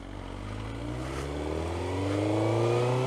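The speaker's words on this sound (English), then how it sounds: "You got a car coming." A car drives past, its engine a steady mid-pitched drone that slowly rises in pitch and grows louder as it nears, with no voices over it.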